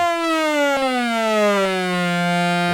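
A Moog Little Phatty synthesizer plays a bright, buzzy sustained tone whose pitch glides smoothly down by an octave, loud and alone.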